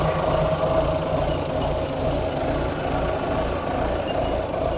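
A 1973 Volvo truck's engine drones steadily close by, with a continuous low rumble and a faint hissing layer on top as the air brake system builds pressure, unchanged throughout.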